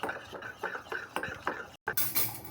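A utensil beats and mixes food in a bowl with quick rhythmic taps and clinks, fairly faint, broken by a brief gap.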